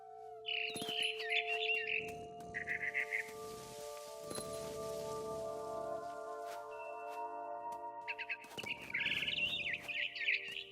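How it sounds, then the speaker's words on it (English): Bright, rapid barn swallow chirps from the video game What Remains of Edith Finch twitter in short bursts at the start and end over a steady tonal hum and soft background rustle. "Then I heard chirping outside my window. It was a barn swallow going back to her nest."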